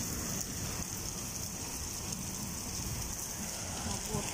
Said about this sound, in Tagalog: lakas-lakas ng ulan, parang mabagyo